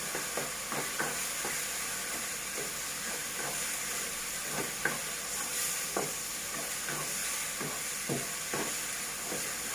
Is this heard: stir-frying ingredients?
yes